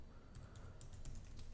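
Someone types a command on a computer keyboard: a quiet, close run of quick, uneven key clicks with no talking.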